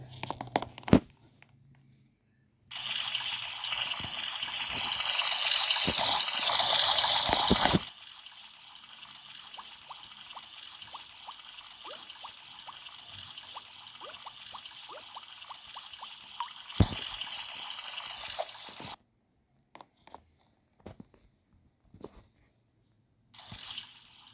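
Tap water runs at a sink during face washing, flowing steadily in two stretches with a quieter trickle between them, then shutting off to leave scattered drips, splashes and small handling knocks.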